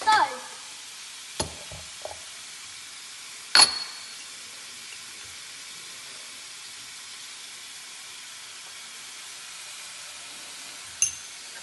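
Vegetable fried rice with salt being stir-fried in a pan, a faint steady sizzle and hiss with a few sharp clinks and scrapes of stirring scattered across it.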